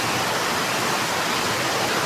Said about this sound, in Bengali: আর একদিকে দেখুন যেমন মুষলধারে বৃষ্টি পড়ছে